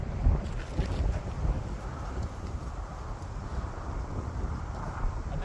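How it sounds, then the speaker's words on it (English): Strong tailwind gusting across the Palmer Lake (Rockin the Rails) disc golf course, a steady loud roar of wind buffeting the microphone with no voices, continuous for the whole stretch. "Huge tailwind right now."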